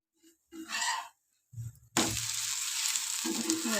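Wheat flour dosa batter sizzles loudly on a hot pan, a sudden steady hiss that takes over after a few brief clatters and kitchen sounds.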